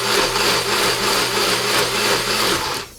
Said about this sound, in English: And I'm going to blend this up.